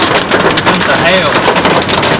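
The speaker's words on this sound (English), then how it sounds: "Here comes the hail." Hail pelts surfaces during a severe August storm in Rowlett, Texas, a loud, dense, rapid rattling clatter of countless close impacts with no letup.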